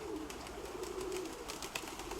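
A pigeon coos in a long, low, rolling murmur, fairly quiet and close, with a brief soft thump near the end.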